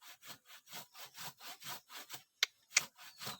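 A hand saw cuts through wood in a rural provincial setting, with about a dozen even back-and-forth strokes in a steady rhythm. The rasping is close but fairly quiet, and two brief sharp clicks break in near the end.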